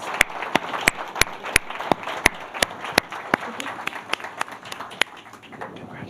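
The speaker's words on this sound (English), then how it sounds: "And give him a big round of applause." Audience applause for a civic engagement award winner, with a few sharp, nearby claps standing out in a steady rhythm over softer clapping from the crowd behind.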